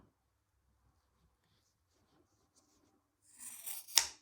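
Scissors cut through a yarn tassel on a Pomweave, a brief crisp snipping burst near the end after near silence, close and moderately loud.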